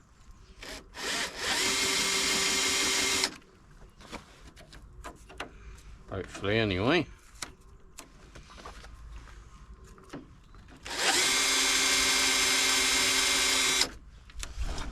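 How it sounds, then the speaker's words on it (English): A power drill bites into a fibreglass front bumper being fitted to a 1992 Nissan 300ZX Z32, marking hole points in two loud, steady whirring bursts of a few seconds each, with someone talking and clattering tool handling in between. "we're going to mark with the drill bit"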